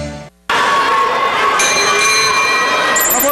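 A boxing round bell rings at a professional bout between Mario "Urakan" Macías and Martín "Pini" Casillas, a loud metallic ding that rises suddenly after a short gap over a steady roar of arena crowd noise.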